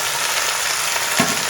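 Pan of frying eggplant and tomato sizzles loudly and steadily at close range, with a short burst as water goes in near the end.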